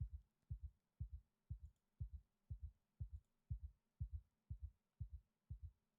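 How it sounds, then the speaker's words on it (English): A pounding heartbeat from the zombie survival game Project Zomboid thumps steadily and deeply, about two beats per second, each a heavy double pulse repeating alone without talk. "We still hear the heart pounding."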